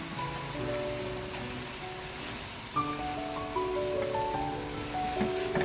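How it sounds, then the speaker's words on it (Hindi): Minced meat fries in a wok for Peshawari-style keema, giving a steady hiss and crackle like rain. Background music with stepping melodic notes plays over the sizzle. "कीमा डालकर अच्छे से हम इसको 5 मिनट तक भुनेंगे, फ्राई करेंगे"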